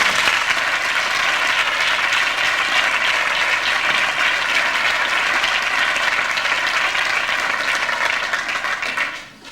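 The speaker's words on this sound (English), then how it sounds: "A big clap for Alan Jensen." A theatre audience gives steady, full applause for a performer, a dense even wash of many hands clapping that holds strongly for several seconds and then tapers off quickly at the end.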